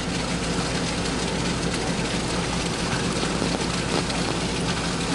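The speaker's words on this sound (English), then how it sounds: "It's raining." Rain falls steadily during a sudden Iowa shower that came right after sunshine, a dense, even hiss of drops lasting throughout with no pauses and no voices.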